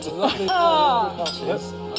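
Glasses clink together in a toast, a bright strike followed by a clear ringing tone that fades slowly, with voices talking around it.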